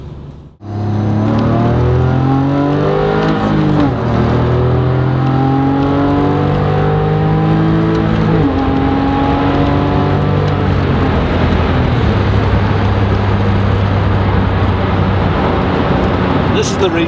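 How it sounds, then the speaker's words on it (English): Porsche 911 Carrera S Aerokit with its sports exhaust valve open, accelerating hard through the gears: a loud, close engine note climbs repeatedly in pitch with brief dips at each shift and stays continuous throughout. "because it's got that sports exhaust, we've got the exhaust open at the minute, it just sounds fantastic, you know, under acceleration"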